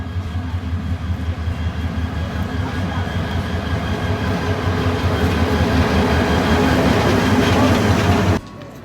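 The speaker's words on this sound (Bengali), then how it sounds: "আমাদের ট্রেন তিস্তা অলরেডি 2 নম্বর প্ল্যাটফর্মে ঢুকতেছে" The Tista train pulls in along platform line 2 at a railway station, a loud, steady low rumble of rolling wagons and wheels that holds throughout and then drops away sharply near the end.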